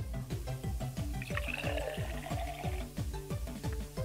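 Water pours in the Mother Simulator video game, a bubbling, gurgling liquid stream with rhythmic splashy pulses, soft and continuous, with no talk over it.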